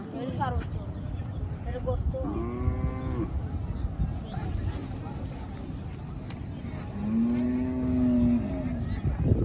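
Cattle at an Eid livestock market, two long bellowing moos, the second louder and closer, over a noisy crowd with people talking.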